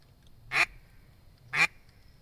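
Two short, loud quacks from a handheld duck call, blown to imitate a real duck, spaced about a second apart with quiet in between.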